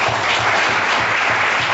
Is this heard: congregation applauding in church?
yes